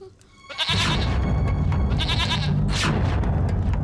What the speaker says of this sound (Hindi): वो बकरी देख रहे हो तुम?